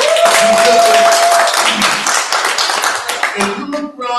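Audience clapping at a Black Lives Matter panel discussion, a dense burst of applause that fills the room and then thins out into scattered claps.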